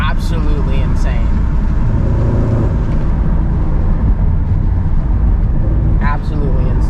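A rebuilt 2018 Ford Mustang GT Premium cruising, its deep, loud engine rumble droning steadily while a person talks excitedly over it.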